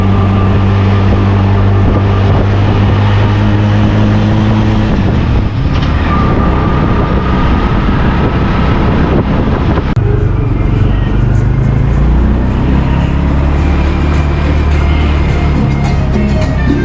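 A tuk-tuk heads to a bus terminal in Guatemala, its small engine droning and rattling loudly and steadily the whole way, with a shift in tone partway through and no clear talk.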